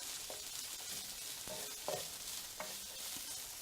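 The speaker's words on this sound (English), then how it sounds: "We're gonna saute the onion for just a minute before we throw in the other vegetables." Onion sautés in a pan, a soft, even sizzle under a few light clicks and scrapes of stirring, with no talking.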